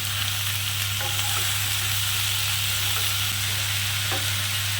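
Onions and vegetables fry in a pot for a catla fish stew, giving a steady dense sizzle with faint occasional scrapes of stirring, close and unbroken, no talking.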